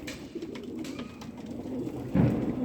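A pure Lal Pari hen pigeon from Tonk coos softly at night, low throaty murmurs close by, ending in a slightly louder burst.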